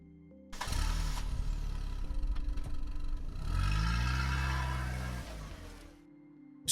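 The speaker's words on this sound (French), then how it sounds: "Soudain, le camion s'arrête. Le moteur fait un bruit bizarre, puis plus rien." A truck engine runs rough with clattering and uneven revving, then winds down and cuts out, leaving near silence; close and fairly loud.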